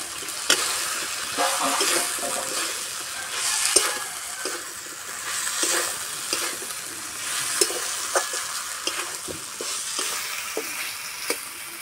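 Fried green banana pieces tipped into spiced potatoes in a pan set off a moderate sizzle, with repeated stirring scrapes and clicks in an irregular rhythm, close and without voices.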